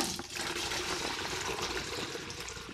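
Warm brine pours steadily into a container while ribs are being prepared, a continuous close splashing and gurgling stream of liquid with no pauses and no talking.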